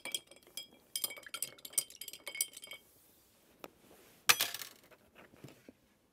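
A metal spoon clinks and taps repeatedly against a cocktail glass as jalapeno pickle juice goes in, bright close rattles in quick bursts, then a pause and a louder clatter.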